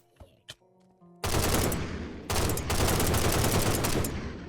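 Rapid gunfire in the mobile version of Minecraft erupts suddenly after a quiet start, loud and sustained, with a brief pause before a second heavy burst of shooting.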